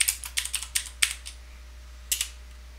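Keys on a computer keyboard are tapped in a short burst of crisp clicks, a quick run of strokes, a pause, then two more close together, heard near and alone.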